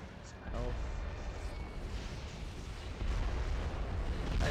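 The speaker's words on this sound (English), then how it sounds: "Repta's got a special grenade launcher that shoots a whole bunch of grenades at once. But I have a rocket launcher" Grenade launcher and rocket launcher explosions in the Red Faction shooter game, a dense, continuous rumble of blasts and booms that swells louder partway through, with no clear gaps between detonations.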